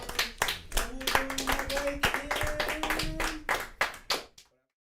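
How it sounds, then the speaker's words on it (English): A small group of people clapping close by, quick uneven claps with some voices mixed in, stopping abruptly just before the end. "Hey, clap it up for them"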